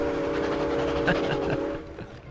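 A steam train runs in the video game Stacking, with a steady chugging rumble and a sustained whistle tone that fades near the end, loud and close.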